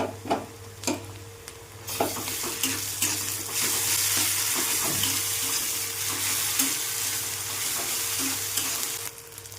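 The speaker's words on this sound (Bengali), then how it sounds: "পেঁয়াজটা একটু ভালো করে ভেজে নেব।" Sliced onion and ginger-garlic paste fry in oil with black cumin in a pan for a Bengali fish curry: a few clicks and scrapes at first, then a steady loud sizzle that holds to the end.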